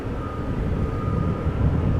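Steady, fairly loud broadband roar of a Norwegian Boeing 737-800 airliner at Amsterdam Schiphol Airport, a continuous low rumble with a faint whine and no talk.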